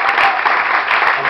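Concert audience applauding steadily with dense, continuous clapping at close range, sustained without a break.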